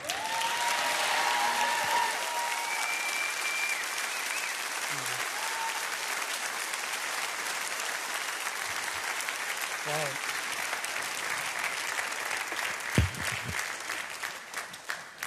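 A crowd at a live gathering applauds in a long, sustained wave of clapping that stays full throughout, with scattered cheers and a voice briefly heard over it.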